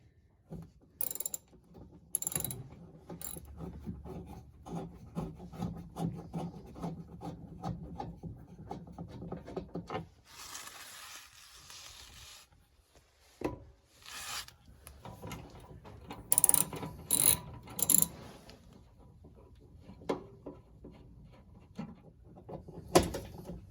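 Ratchet wrench removing bolts from the air dam of a Toyota 4Runner: bursts of quick clicking ratchet strokes and metallic handling, with a short rushing broadband stretch midway, close and fairly loud, no talking.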